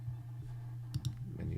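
A menu click sound effect in a Unity RPG game, heard as two short, crisp clicks close together over a steady low hum, with faint background noise rising at the end.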